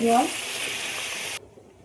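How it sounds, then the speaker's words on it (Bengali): Ground ginger, cumin and green chilli paste sizzles steadily in a pan for under two seconds and then cuts off abruptly, with a brief stirring scrape at the start. "আদা জিরে কাঁচা লঙ্কা বাটাটা দিয়ে খুব ভালোভাবে ভাজার জন্য নেড়ে দেবো"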